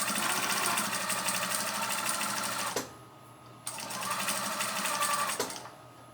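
A sewing machine stitches a fleece sherpa blanket in two steady bursts of rapid, even whirring, pausing briefly in between with a quieter gap, loud and close.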